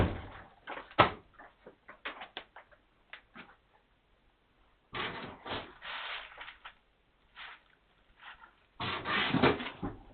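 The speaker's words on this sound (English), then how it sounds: "This is the toy drawer." A toy drawer slides and knocks as it is opened and closed, giving several clusters of close wooden scrapes and thuds separated by pauses, with a few louder bumps near the start and end.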